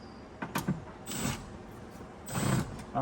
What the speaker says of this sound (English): I'm gonna go and start removing the bolts or the screws that holds the actual window regulator